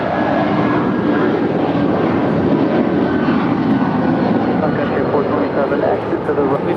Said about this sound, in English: We've got United 1250 off to San Francisco. It's a 27-year-old 757-200.